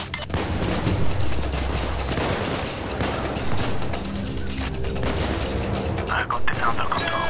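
Dense bursts of gunfire and booms crackle continuously in the video game Payday 2, loud and busy, with some voices underneath.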